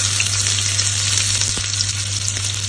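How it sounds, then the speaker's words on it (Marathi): Garlic and chopped onion fry in well-heated oil, producing a loud, continuous, dense hiss and crackle that holds steady throughout without pause or voices. "तेल आता बऱ्यापैकी तापलेलं आहे, तर लसूण टाकून घेते, थोडा कांदा घेते"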